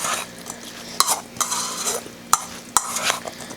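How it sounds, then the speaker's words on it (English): Watermelon salsa is mixed in a bowl, soft wet swishing strokes broken by a few sharp clinks of a utensil against the bowl, close and brief with no voices. "all we're gonna do is we're just gonna mix it up"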